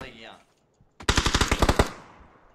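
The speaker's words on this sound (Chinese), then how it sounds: "这什么枪声啊？" Loud, close burst of rapid automatic gunfire in a video game, about a dozen evenly spaced shots in quick succession, then a short fading tail.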